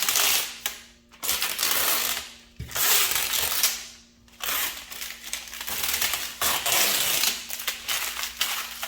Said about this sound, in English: grab one corner and be able to pretty much peel all this up in one shot